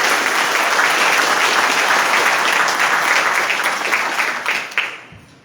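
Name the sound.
audience applause for council members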